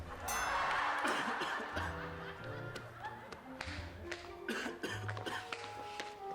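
Several coughs break out, harsh and close, with soft chuckling and throat clearing between them over a few seconds.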